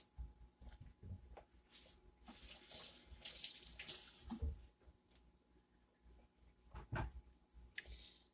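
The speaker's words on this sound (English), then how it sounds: "now I'm going to go rinse it off under the water" Water from a kitchen tap runs over a potato being rinsed, a close, splashing stream that rises and falls as the potato is turned under it, with brief gurgles and drips.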